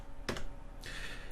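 A single Enter key press on a computer keyboard, a short sharp click near the start followed by a softer release, close up in a quiet room.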